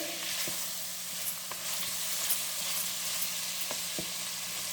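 Chicken for a pepper fry sizzles in hot oil while being stirred, a constant bright frying hiss with occasional spatula taps against the pan, close and alone.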